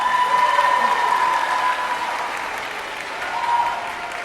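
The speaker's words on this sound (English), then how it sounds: "Yes, you may clap." A concert audience at a city music festival applauds an honored inductee, a retired high school choral director, with dense, steady clapping from many hands that swells slightly near the end, with faint voices underneath.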